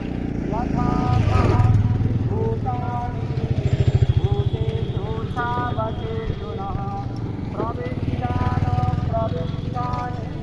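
A river ferry boat's engine runs with a steady, rumbling motor drone as it arrives at a crossing, fairly close and continuous under nearby voices.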